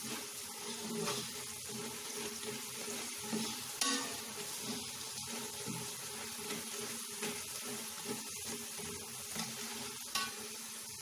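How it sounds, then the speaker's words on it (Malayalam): Jackfruit chips frying in hot oil while being stirred, a steady broadband sizzle and bubbling with occasional scraping strokes, close and continuous throughout, no talking. "നമ്മൾ ഇളക്കുമ്പോൾ ഇതുപോലുള്ള സൗണ്ട് കേൾക്കുമ്പോഴാണ് നമ്മുടെ ചക്ക ചിപ്സ് റെഡി ആയിട്ടുണ്ടെന്ന് മനസ്സിലാക്കാൻ പറ്റുന്നത്"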